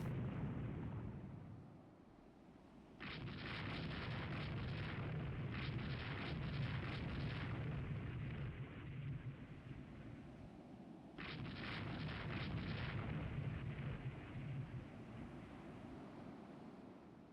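Naval 6-inch guns firing in the Rule the Waves 3 naval game, heard as long rolling roars of artillery that swell, sustain for several seconds, ease off, then swell again over a steady rumbling background of sea and wind.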